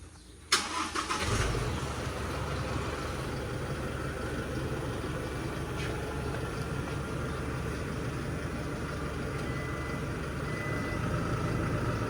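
A vehicle engine starts with a sharp click and cough, then idles in a steady mid-pitched drone while reversing near parked motorcycles, close and continuous.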